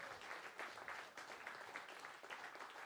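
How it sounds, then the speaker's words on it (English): At a startup showcase talks event, a crowd gives a quick round of applause for the founders: soft, distant, continuous clapping from a large audience that holds steady throughout. "I want to get a round of applause really quick for all of our founders again"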